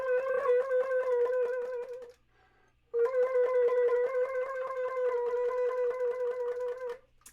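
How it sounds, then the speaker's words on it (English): Sung tone and a G fingered on the flute blend into an eerie, ghostly sound, a steady buzzing note with rich overtones that breaks off briefly and then resumes for several seconds, close and fairly loud. "I'm just singing into the flute."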